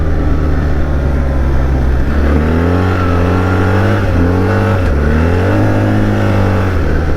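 A 2025 BMW R1300 GSA motorcycle engine rises in pitch under acceleration, drops sharply at each gear change, then climbs again, repeating through several shifts as a loud, close drone with wind noise.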